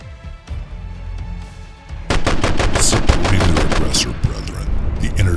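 Gunfire sound effect in a Warhammer 40k tabletop battle report as intercessors open fire, a loud rapid burst of repeated shots following a low rumbling intro.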